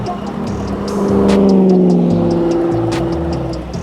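A 2021 Harley-Davidson motorcycle engine pulls hard on the throttle, its deep rumble rising and swelling near the middle before holding steady, with road and wind noise around it.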